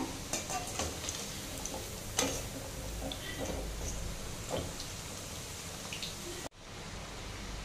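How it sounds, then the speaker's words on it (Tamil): Ragi murukku deep-frying in hot oil crackles and sizzles continuously up close, with dense popping, a brief dip near the end, then steady sizzling again. "இப்போ நம்மளுக்கு எண்ணெயோட சலசலப்பெல்லாம் நல்லா குறைஞ்சிடுச்சு"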